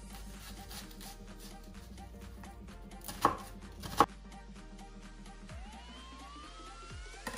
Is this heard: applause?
no